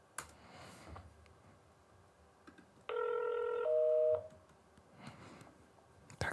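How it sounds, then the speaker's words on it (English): A telephone dial tone sample sounds in a drum and bass production, a steady electronic tone held for about a second and a half between quieter clicks and faint background sounds. "if we've got like a phone dial tone or something"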